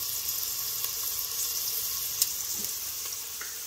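Onions and green chilies fry in a pan with a steady, soft sizzle and occasional faint crackles and stirring clicks, heard close and alone.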